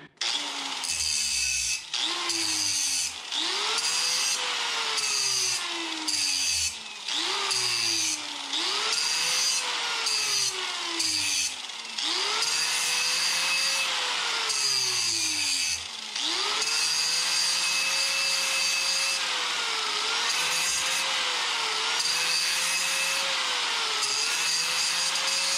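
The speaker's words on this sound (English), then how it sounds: "I'm using a slotter, not a grinder per se, so this isn't the best use of this piece of equipment." A slotter cuts into wood in a guitar-making workshop, its motor whining steadily while the pitch repeatedly sags and recovers as the blade bites, in loud, continuous passes with brief pauses between.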